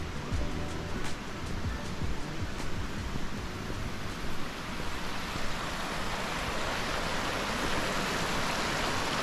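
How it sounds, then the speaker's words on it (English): A waterfall-fed stream in Lauterbrunnen, Switzerland, rushes as a steady, broad, hissing water wash, constant and fairly close, with no voices over it. "There's the stream from the waterfall."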